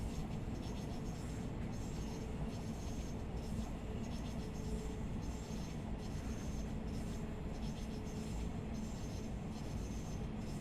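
A Class 66 freight locomotive hauling freight wagons in Train Sim World, a steady rumbling roar with faint rhythmic wheel clicks, continuous and unbroken.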